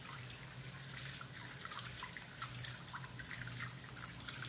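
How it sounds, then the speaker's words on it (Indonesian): Both hands rinsed under a running tap during handwashing, with a steady soft stream of water and light dripping and splashing, continuous and fairly faint, no voices. "Kemudian bilas kedua tangan."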